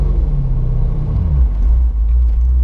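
A Corvette C5 Z06 engine, wrecked, idles high at a steady 2,000 RPM, a loud continuous low rumble with no speech over it.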